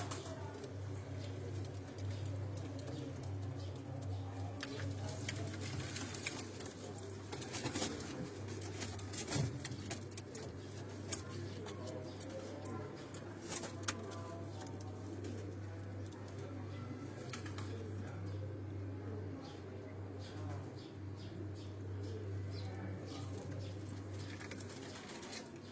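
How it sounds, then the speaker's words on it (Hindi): Sialkoti breed pigeons cooing in a loft, low soft coos repeating throughout under a steady background hum, with faint wing flutters and occasional clicks nearby. "ये सारे सियालकोटी ब्रीड के कबूतर हैं"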